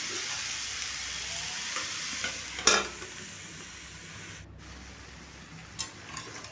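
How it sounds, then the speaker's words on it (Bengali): Shredded bottle gourd with salt is stirred in a pan for a Bengali shrimp dish, giving a steady low sizzle throughout, with one sharp utensil scrape partway and a couple of faint clinks later. "দিয়ে আমি খুব ভালো করে মিশিয়ে ঢেকে রেখে দেবো 2 মিনিটের মতন।"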